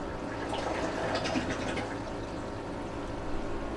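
Water pours steadily into the sump of a 75-gallon aquarium with a Bean Animal overflow once the pump shuts off, a continuous close rushing and trickling with no voices.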